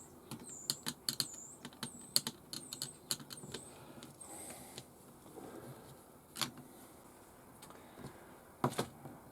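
Small screws being worked loose from a Tamiya Super Clodbuster RC truck, heard as close, quiet clusters of light ticks and clicks in short bursts with pauses, in a near-silent room.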